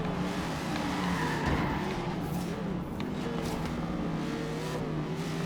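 A race car's engine drones steadily and loudly in Forza Horizon 3 during a Ford vs Holden championship point-to-point race, with tire noise and skidding running beneath it, all continuous and without a break.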